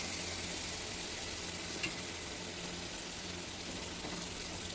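Food frying in a pan after a splash of water hisses steadily, with one brief sharp clink of stirring near the middle. It stays moderately quiet and no one talks.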